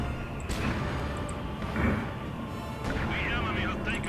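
Mortar fire in the video game Company of Heroes 2: muffled booms and rumbling blasts on a snowy, icy battlefield, layered over dense, continuous combat noise, with a few sharper impacts standing out.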